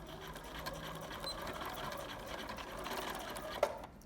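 A sewing machine runs steadily through minky fabric with a continuous, moderately loud motor whir and needle stitching, then halts with a brief click near the end.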